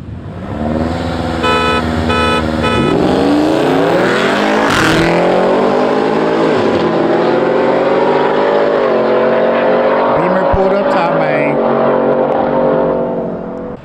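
A BMW and a Ford F-150 race on a cold night, engines revving hard and climbing through gear changes, the loud roar rising and falling with sharp shifts before fading.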